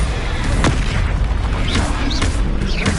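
A Bombarda blasting spell goes off in Hogwarts Legacy, a loud booming explosion that fills the whole moment with a dense roar, with faint sweeping whooshes running under it.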